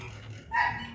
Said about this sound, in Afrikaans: Yes, hierdie honde lawaai.